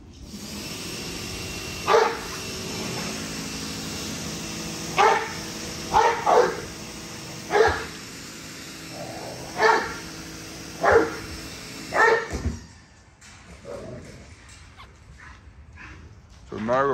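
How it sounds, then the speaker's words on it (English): A dog barks at the water in sharp single and double woofs every second or two, close by, over a steady mechanical hum like a cleaning machine, which drops away near the end. "Nigel barking at the water while Ye is trying to clean it."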